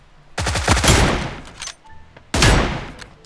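Loud bursts of automatic gunfire from the battle royale game PUBG New State, a rapid rattling volley followed by a short lull and then a second heavy burst, close and prominent with no talking.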